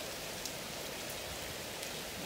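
Heavy rain pours down steadily during a daytime storm in Egypt, a dense, even hiss of drops hitting surfaces with no pause, heard alone with no voices.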